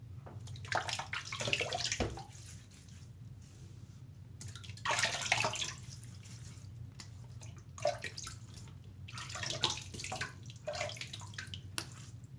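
Tap water runs steadily as a man wets his cheeks for a shave, a continuous splashing hiss with brief surges and pauses over a low background hum, close by and with no talking.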